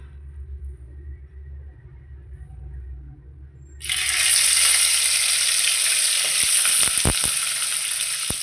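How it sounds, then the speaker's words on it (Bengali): Stuffed chillies dropped into hot oil in a pot burst into a loud, steady sizzle after a few seconds of quiet, with occasional sharp pops and crackles as they fry. "তো গরম তেলে দিয়ে এগুলো ভেজে নেবে।"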